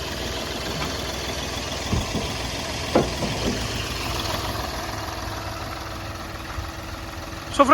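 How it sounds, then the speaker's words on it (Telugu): Steady diesel idle from a 2017 Hyundai Grand i10 CRDi with the bonnet open, recorded up close as an even low rumble with a few faint clicks and knocks and no voices. "ఇప్పుడు ఇంజన్ ఆన్లో ఉంది. ఇంజన్ సౌండ్ అయితే మీరు వినొచ్చు"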